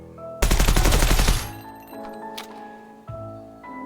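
Full-auto magazine dump in Gunsmith Simulator: a fast, loud burst of rapid gunfire for about a second, followed by metallic clinks and softer mechanical handling sounds.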